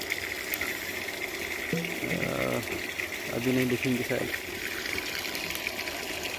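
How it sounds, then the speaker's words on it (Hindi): Water pours steadily into a biofloc fish tank in winter, a constant rushing gush with someone speaking over it. "पानी से भर रहा है अभी।"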